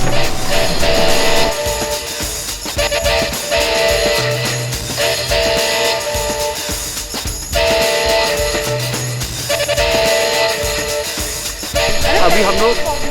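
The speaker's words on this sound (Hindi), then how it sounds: "तो ये हम लोग स्ट्रीट कार के अंदर आ गए हैं" Inside a Toronto streetcar on the way to the Toronto Islands ferry, a loud steady rumble and rattle of the ride fills the cabin, with a few brief low tones, while people talk over it.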